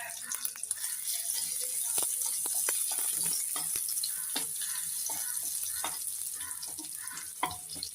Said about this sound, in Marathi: जर लसूण थोडासा तळत आला